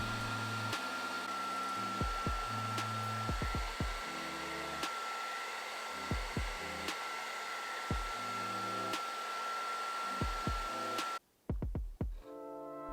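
A heat gun used for plastic model work blows a steady, loud rush of hot air that holds without a break, then cuts off abruptly near the end, leaving a few softer knocks.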